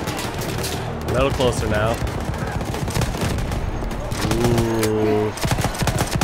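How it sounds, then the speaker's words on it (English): Weapon fire from a cannon in the video game Battlefield 1, bursts of crackling electric blasts and booming shots with rapid gunfire, while someone speaks briefly over the action. "This isn't a machine gun. I'm shooting lightning out of a cannon."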